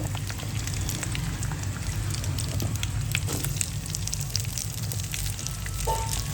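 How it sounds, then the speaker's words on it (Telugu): Onions frying in hot oil with curry leaves, giving a continuous close hiss and crackle like light rain, with a low background hum and no speech. "ఆనియన్స్ వేసుకున్న తర్వాత మంచిగా ఫ్రై చేసుకోవాలి ఆనియన్స్ అన్ని."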